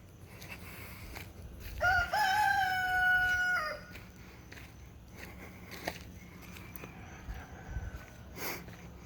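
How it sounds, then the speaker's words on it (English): A Rhode Island Red mix rooster on a small farm gives one clear crow lasting under two seconds, followed by faint distant crowing and soft background noise, with no talking. "this is one of the roosters we hatched"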